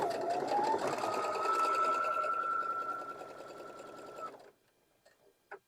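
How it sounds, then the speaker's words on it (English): A sewing machine stitches quilt block fabric pieces together along the long side in a steady, fast whirring run of about four seconds, slowing toward the end, followed by a few faint clicks. "we're going to sew them down on the long side of the block"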